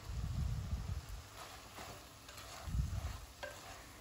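Kerala-style crab fry with curry leaves, green chillies and coconut oil being stirred in a pan, giving soft scraping and rustling strokes in a few bursts over a low sizzle, fairly quiet and close.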